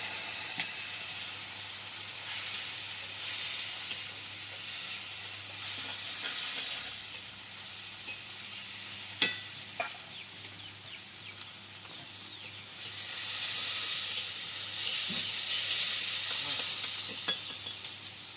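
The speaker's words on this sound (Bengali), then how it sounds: "এবার কাঁচা লঙ্কা আর পেঁয়াজ বাটা একসাথে দিয়ে দিচ্ছি" Green chilies and onion paste, two onions with ten to twelve chilies, frying in hot oil for a fish mustard curry, giving a steady close sizzle with occasional stirring clicks and louder bursts of hiss toward the end.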